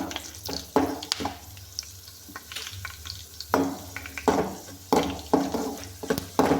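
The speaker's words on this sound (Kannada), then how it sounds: "ನೀಟಾಗಿ ಕಡಲೆಬೇಳೆನ ಫ್ರೈ ಮಾಡ್ಕೋಬೇಕು" Chana dal sizzles in hot oil in a pan, a close crackling fry punctuated by frequent stirring scrapes and knocks at an uneven rhythm, with no speech.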